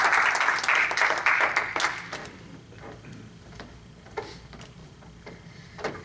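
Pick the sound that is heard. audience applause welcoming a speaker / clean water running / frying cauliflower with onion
audience applause welcoming a speaker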